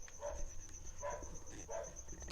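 Faint dogs bark in three short bursts in the distance, over a quiet background with a steady high insect-like whine.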